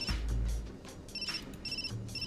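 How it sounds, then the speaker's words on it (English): An electronic phone ringtone from the video game Root Double: Before Crime * After Days chimes in short repeated bursts of bright tones with gaps between them, fairly quiet and alone. "the abrupt sound of a ringtone"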